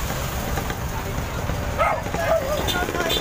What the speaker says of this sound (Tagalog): may tumatawag po yung aso